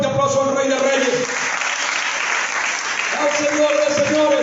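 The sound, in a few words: applause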